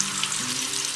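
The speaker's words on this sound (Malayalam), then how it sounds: "മാരിനേറ്റ് ചെയ്ത് വെച്ചിട്ടുള്ള ചിക്കനും കൂടെ ഒന്ന് ഫ്രൈ ആക്കാൻ വെക്കുന്നുണ്ട്" Marinated chicken frying in hot oil gives a steady, close, broadband sizzle that holds without a break and has no voices over it.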